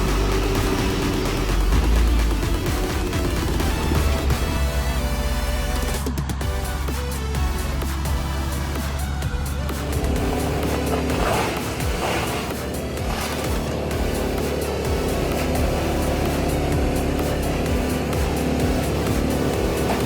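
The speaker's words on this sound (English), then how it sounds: "The heavy machinery uses a winch to pull the timber truck through slippery, muddy, and challenging steep roads" Heavy machinery winching a loaded timber truck up a slippery, muddy, steep logging road, with loud, continuous diesel engine roar and straining mechanical noise throughout, no voices.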